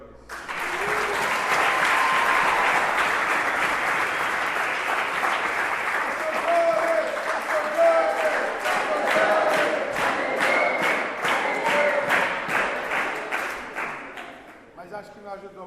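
Church congregation breaks into sustained applause during a sermon, a dense, loud wash of clapping that holds steady for many seconds, with scattered voices and a few cheers mixed in before it tapers off at the end.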